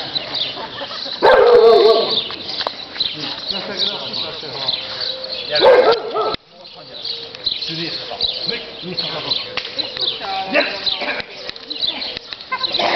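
A dog barks in short sharp bursts amid outdoor bustle, the barks loud and close at moments, interleaved with people talking and faint bird sounds.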